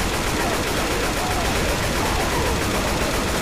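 Gunfire with infinite ammo pours into a tank in a modded zombie-survival shooter, a loud, unbroken automatic stream of shots filling the whole stretch with no pauses.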